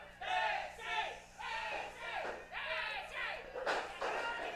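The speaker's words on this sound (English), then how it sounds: "Crowd just loving Betsy." A crowd at a live wrestling show roars and cheers in swelling bursts, loud and close, with a commentator's voice over the noise.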